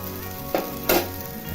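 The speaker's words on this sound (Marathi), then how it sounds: "आता पाण्याला उकळी आलेली आहे" Water coming to a boil in a pan of spicy chutney on a high gas flame for a Marathi sandge curry, a steady sizzling hiss broken by two brief louder bursts of bubbling.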